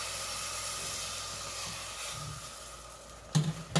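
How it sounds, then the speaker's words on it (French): Broth hisses as it is poured into cooking rice in a pan, a steady sizzling wash that fades slightly before a brief louder splash near the end. "Maintenant, on va rajouter un peu de bouillon."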